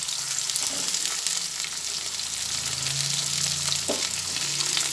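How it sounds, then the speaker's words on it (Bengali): Cut bitter gourd and drumstick pieces fry together in hot oil, making a loud, continuous sizzle with a brief stirring knock near the end. "উচ্ছেগুলো ভাজার সময় উচ্ছের সঙ্গে একই সঙ্গে কিছু সজনে ডাঁটাও কেটেছি, সজনে ডাঁটাটাও ভেজে নিচ্ছি।"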